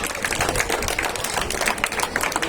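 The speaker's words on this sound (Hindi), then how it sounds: "A to Z सारे खिलाड़ियों के लिए थोड़ी सी क्लिपिंग और तालियां" Scattered hand clapping and applause from a small crowd at a pigeon-flying tournament prize distribution, a dense, steady patter of claps lasting a couple of seconds with light background noise.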